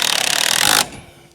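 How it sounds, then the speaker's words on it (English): A power drill drives screws into a robotic mower's cover: a loud, buzzing rattle of the motor runs close for under a second, then cuts off abruptly into quiet. "you can use a power drill"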